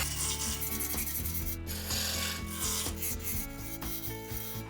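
A roughing gouge cuts a spinning wood blank on a lathe while shaping a rolling pin, giving a steady, loud, continuous scraping rumble with the hum of the machine underneath and no talk.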